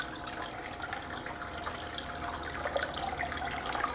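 Water flows steadily across a gold dust concentrating table, a continuous moderate wash with a light splashing texture that stays fairly even throughout, with no voices.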